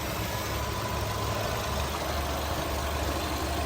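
A 2008 Skoda Octavia 1.6 petrol engine with automatic transmission idles evenly up close, a steady low hum with no voices and no revving.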